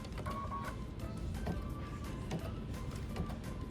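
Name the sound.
embroidery machine sewing satin stitch around applique flower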